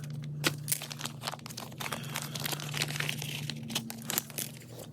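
Plastic packaging for a folding shifter for a Honda CRF125 dirt bike crinkles and crumples as it is torn open, a steady run of close rustling bursts over a low steady hum.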